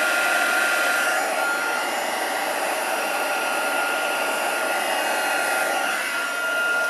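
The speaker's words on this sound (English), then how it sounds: "just heat it a little from the back, just to help flatten it out a bit more." A heat tool blows hot air onto a handmade card, a steady, loud whooshing fan roar that holds constant from start to finish, with no voices.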